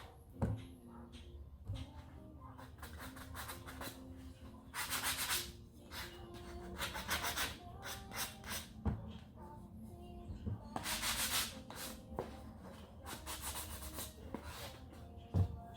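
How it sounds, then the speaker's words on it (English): Hand sanding of a wooden derby car, with bursts of rough rasping strokes that come in irregular clusters amid quieter handling noises and light tapping, close and moderately loud. "once you guys are happy with how you've sanded it down"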